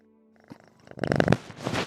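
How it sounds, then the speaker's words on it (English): A house cat purring close to a microphone, a soft rumbling purr that swells louder in the second half of the short stretch, with light handling noise and no talking. "You hear her purr? She purring loud enough?"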